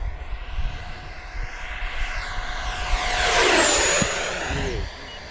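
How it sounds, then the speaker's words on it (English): An XFLY Sirius 80mm RC jet airplane, flying at about 100 mph, whines overhead in a steady ducted-fan rush that swells to a loud close pass near the middle and then fades away, with no talking. "So it seems like it's about a 100-mile-an-hour airplane."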